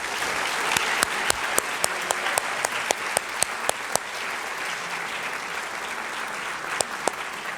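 Audience applause at a school honors convocation, a steady broad wash of clapping from a large crowd with sharper individual claps standing out, sustained throughout with no talk over it.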